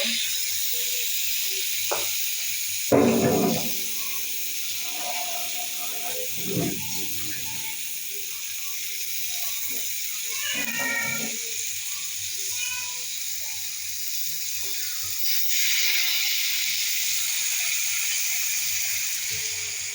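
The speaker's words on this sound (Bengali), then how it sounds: "মশলার ভিতরে এবার একটু পানি মিক্স করে দিব।" A spice paste of cumin and garlic paste fries in a pan after a little water is added, giving a low, steady hiss broken by a few scraping stirs and clinks.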